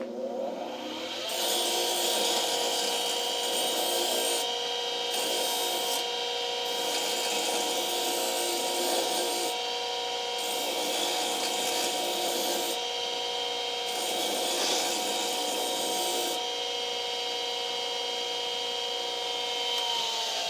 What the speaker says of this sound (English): So, you want to sharpen it? Sure. Let's sharpen it.